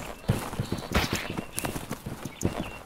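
Cavalry horses' hooves clatter in a multiplayer medieval combat video game, an uneven run of dull thumps close by over some faint background noise, with no talk heard.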